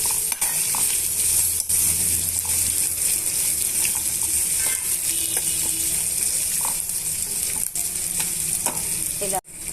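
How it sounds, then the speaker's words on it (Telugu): Finely chopped onion and green chillies sizzle loudly in hot oil in a pan, a dense continuous fry close up, with occasional stirring scrapes and no voices. "ఒక ఉల్లిపాయ సన్నగా తరిగి వేస్తున్నానండి ఒక రెండు పచ్చిమిరపకాయలు తరుక్కొని వేసుకోవాలండి ఇవన్నీ కూడా నాకు బాగా మిక్స్ చేసేసి ఇలా అన్నీ కూడా వేయించేసుకోవాలండి"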